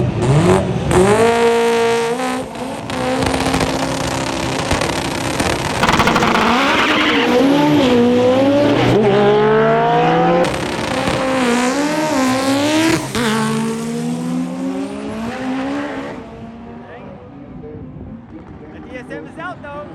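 All-wheel-drive Honda and DSM race cars at a qualifying race, engines screaming and revving hard with rising and falling pitch as they accelerate and shift, loud and close, with an announcer talking over the noise.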